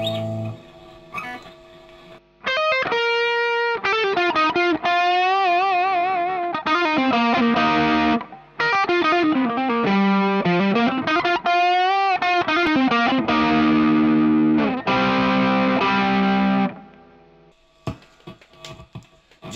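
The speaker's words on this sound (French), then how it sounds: "Je vais voir ce que ça donne avec un crunch bien dégueulasse." Electric guitar with a dirty, heavily distorted crunch tone, sent through a Lekato 2.4 GHz wireless system, plays loud sustained chords and bends for about fifteen seconds, then trails into quiet pick noise and string scrapes.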